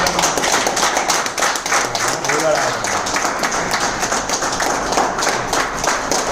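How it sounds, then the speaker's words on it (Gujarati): Audience clapping at a stage gathering, a dense, steady wash of many hands that runs unbroken from start to finish, with faint voices mixed in. "જોરદાર તાળી."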